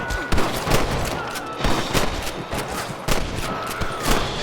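Heavy gunfire at rustlers in a Red Dead shootout, with rapid overlapping shots and sharp cracks over several seconds, loud and close.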